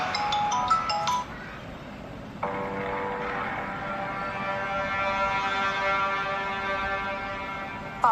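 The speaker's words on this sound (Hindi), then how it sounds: "पापा जी फोन नहीं उठा रहे हैं, आर्या को मिलाते हो।" A phone rings on and on without being answered, a steady electronic tone after a few brief beeps at the start.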